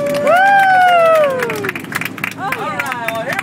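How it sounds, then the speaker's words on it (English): Passengers on an amphibious duck tour boat in Seattle cheer with a loud whoop, then clap and chatter together nearby as the cheering fades into scattered applause. "Big round of applause for the duck!"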